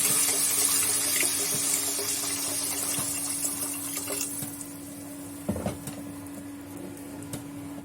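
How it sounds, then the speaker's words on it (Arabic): Water runs steadily into a pot of rice for a fish and shrimp dish, a continuous hissing pour that fades toward the end, followed by a few light clunks. "ننزل عليهم بقى بالميه"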